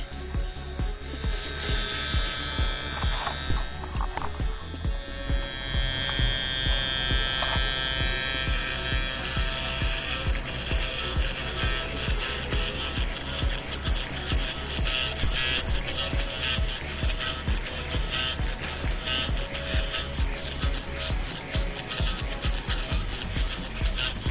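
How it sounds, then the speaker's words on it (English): A newer RC helicopter servo with a gyroscope runs close by once plugged in, giving a steady mechanical buzz with fast, even pulses that carry on without a break for the whole stretch. No one talks. "And this is the new servo, how it works."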